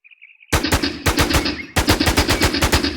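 Machine gun fire in the video game WarZ: a short faint tone, then loud rapid bursts of automatic shots, with a brief gap between strings of rounds.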